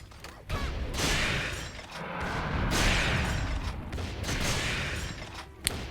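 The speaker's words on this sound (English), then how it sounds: "So yeah, there's another explosion again." Repeated explosions and blasts in the action game Toukiden 2, loud, broadband bursts swelling and fading over several seconds with debris-like crackle and a sharp hit at the end.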